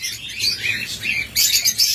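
Pet cockatiels or lovebirds in a cage, bright high chirps and tweets in quick overlapping bursts, close and fairly loud, with no talk.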